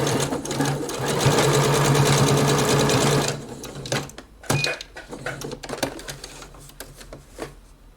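A sewing machine closes the seams on a lace trim sleeve, running loud and steady with rapid rhythmic stitching for about three seconds, then stopping, followed by scattered handling clicks and fabric rustles.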